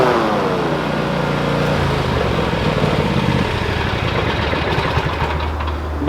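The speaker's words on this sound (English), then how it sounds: "motor combined with the deck is it's a very loud machine" Cub Cadet Ultima ZT1 zero-turn lawn mower running close by, its engine and cutting deck making a loud, steady roar with a slight shift in pitch partway through, no talking.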